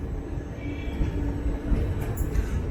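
Velankanni–Ernakulam express train (16362) pulling into Thiruvarur station: a steady low rumble of rolling wagons with faint squeal from the wheels, continuous and close, with no talk.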